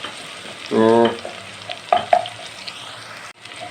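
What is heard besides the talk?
onions frying in a pan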